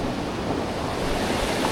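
A swollen fell stream on the Buttermere Fells, grown river-sized, rushes with a dense, steady roar of churning water, loud and continuous with wind buffeting, no talk.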